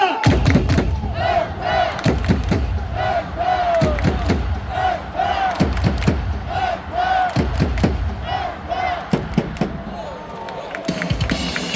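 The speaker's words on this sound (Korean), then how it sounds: "박수 세 번 치고 자자자 안타!" A Hanwha Eagles baseball crowd at the stadium claps and chants in unison during a cheerleader-led cheer, loud, massed voices rising and falling over repeated group claps and thuds, with amplified calls echoing through the stands.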